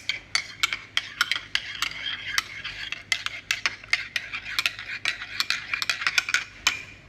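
A spoon stirs Nesquik hot chocolate in a mug, tapping and scraping against the sides in a quick, uneven run of close, bright clinks that continue steadily throughout with no talking.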